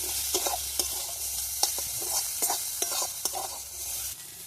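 Cumin, coriander powder, green chilli and ginger fry in a pan for homemade samosa filling, with a steady sizzle broken by sharp scraping clicks of a stirring spoon every half second or so, close and fairly loud, no voices.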